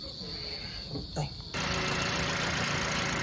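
A Toyota Vios engine, being repaired for lost compression, suddenly catches and starts, then settles into a steady, fairly loud idle after a short stretch of quieter background noise.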